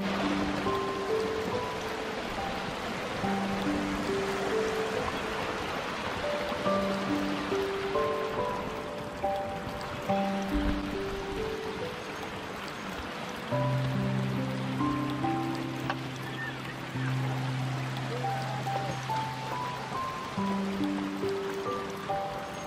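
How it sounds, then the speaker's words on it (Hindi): Water rushes continuously down a small mountain channel along a trail, a steady broadband splash and gurgle, while faint music plays underneath. "आबशार तो खैर नहीं कह सकते, छोटा सा वाटर चैनल है।"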